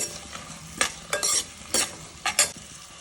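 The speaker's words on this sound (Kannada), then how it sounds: "ಶುಂಠಿ ಹಾಕ್ಕೊಂಡು ಫ್ರೈ ಮಾಡ್ಕೊಳ್ಳಿ" Dried red chillies and ginger fry in oil for mushroom sambar, a low sizzle broken by several quick, sharp stirring scrapes of a spoon against the pan, close up and irregular with no talking.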